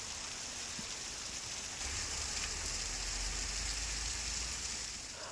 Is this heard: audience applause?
no